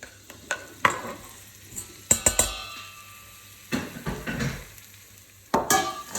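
Half a fresh chili and five crushed garlic cloves sauté in a pan, a soft sizzle punctuated by a few sharp clinks and scrapes of utensils against the pan, fairly quiet overall.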